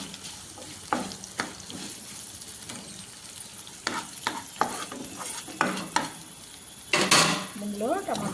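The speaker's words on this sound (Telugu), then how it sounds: "ఇందులో టమాటా ముక్కలు వేసేస్తాం." Tomato pieces go into a hot pan for a tamarind-leaf chutney and are stirred, giving a low sizzle broken by several sharp clinks and scrapes of a utensil against the pan.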